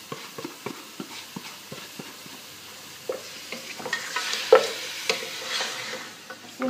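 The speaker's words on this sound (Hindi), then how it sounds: "उसको थोड़ा सा हिलाएंगे, और हिलाने के बाद इसमें जो ये 2 टेबल स्पून जिंजर और गार्लिक का पेस्ट है वो डालेंगे" Ginger garlic paste being stirred and fried into a restaurant-style meat curry, a rhythmic series of spoon knocks and scrapes over a growing sizzle that swells louder toward the end.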